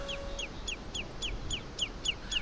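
A lesser yellowlegs sandpiper calls from a shallow lagoon, a series of about eight sharp, clear whistled notes evenly spaced over faint background noise.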